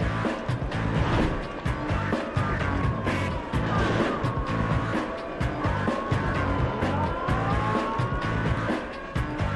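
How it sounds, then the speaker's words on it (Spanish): Motorized pallet lifts carry loads between trucks and storage inside a busy warehouse in Brea, California, giving a steady dense mechanical din with rising whines and tire squeaks on the floor, constant and fairly loud throughout. "los trabajadores van desde los camiones a los almacenes y viceversa en elevadores de paleta"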